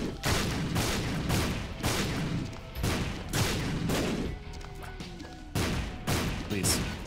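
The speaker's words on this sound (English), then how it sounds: "I guess I'll destroy all the rocks" Rocks are smashed in The Binding of Isaac: Repentance, a run of loud, punchy bursts repeating at a quick, uneven rhythm, close and forceful, with game sounds between them.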